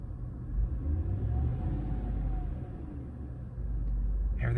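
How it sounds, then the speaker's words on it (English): A Chevy GMC V8 truck engine idles after a spark plug change, a steady low rumble holding even and close throughout with a slight swell near the end. "idling pretty steady"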